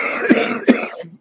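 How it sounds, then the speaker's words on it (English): A man coughs twice in quick succession, close and fairly loud, with a short throaty trailing sound afterward. "Stern cough, man, about to get me."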